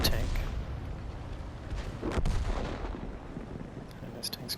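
Tank cannon fire in World of Tanks: a sharp blast near the two-second mark stands out over a dense rumble of battlefield noise, with lighter cracks near the end.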